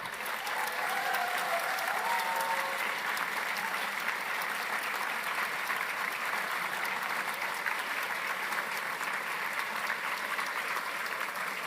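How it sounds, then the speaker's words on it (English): A large audience at the Wolf Prize award ceremony gives the laureates a long, steady round of applause, an even wash of clapping heard from a moderate distance, with faint voices mixed in. "the Wolf Prize laureates, please welcome them with a warm round of applause"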